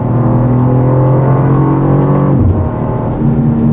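A BMW M2 G87 coupe with 460 horsepower idles and revs in its loudest sport mode with the exhaust valves open, a deep, steady engine drone that dips briefly as the pitch shifts, close and loud with no talking.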